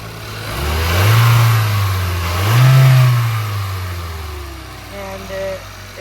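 Car engine in an automotive shop lab revving up twice from idle, each rev rising and falling smoothly, then settling back to a steady idle, loud and close.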